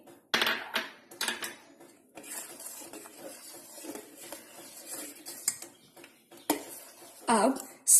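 A spoon clinks and scrapes against a pot while cardamom powder is stirred into milk for homemade rasmalai, in irregular close taps and scrapes separated by brief pauses.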